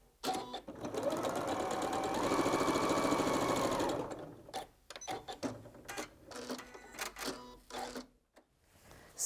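A sewing machine runs steadily for about four seconds as quilt pieces are stitched, its rapid needle clatter close and even, then a scatter of short mechanical clicks and handling knocks follows.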